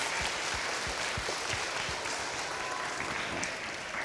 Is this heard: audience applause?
yes